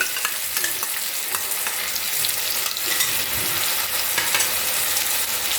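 Spice paste frying in oil in a pan for a jackfruit and prawn curry, with a loud continuous sizzle and crackle broken by brisk stirring scrapes.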